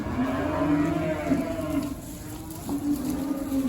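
Cattle in a barn pen give long, low moos, loud and close, one drawn-out call running into another against a steady background hum.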